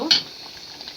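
Meat for biryani cooks in a pot: a quick clatter opens, then a soft bubbling sizzle continues briefly.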